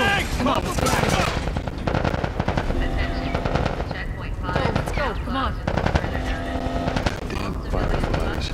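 Rapid automatic gunfire at a checkpoint in the video game The Last of Us Part 1, loud and close bursts with sharp cracks that keep repeating over several seconds, with shouted voices mixed in between the volleys.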